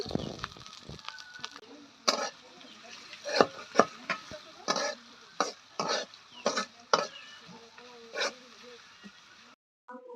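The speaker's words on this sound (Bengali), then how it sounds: "প্রথমে এখন দিয়ে নিচ্ছে পেঁয়াজ কুচি তারপরে দিয়ে দিবে পরিমাণ মতো তেল তো দিয়ে একটু ভালো করে ভেজে নিবে" Chopped onions frying in oil in a pan, repeated scraping stir strokes over a low sizzle, close by, with faint background voices.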